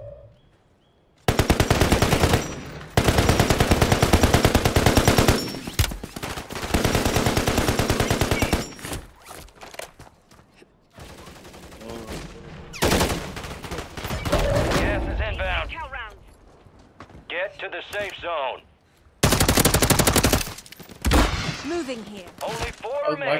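Rapid automatic gunfire in the Warzone 3 video game, with loud sustained bursts of close rifle fire, a TAQ Eradicator among the guns, broken by pauses with scattered shots, distant rattling fire and players talking between volleys.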